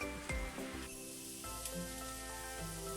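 Mushrooms and onions fry in a pan with a soft, continuous sizzle and hiss, close by, broken by a few light clatters of stirring.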